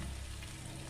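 A short, soft sizzle of onion, ginger and garlic paste frying in oil with a little sugar, steady and close.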